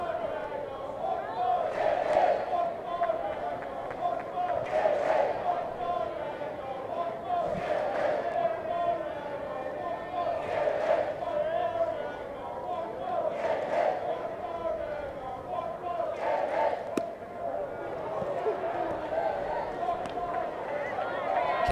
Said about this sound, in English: Some members of the crowd here, none too pleased.